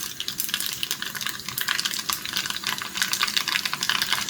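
Mustard seeds and hing crackle and sizzle in a tablespoon of hot oil in a small tadka pan, a steady close spitting with rapid pops and no talking.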